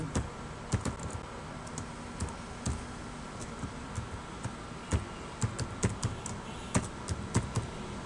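Someone types an email address on a computer keyboard, making soft, irregular clicks of keystrokes in quick bursts against a quiet room hiss.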